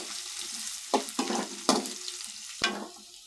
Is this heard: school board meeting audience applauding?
no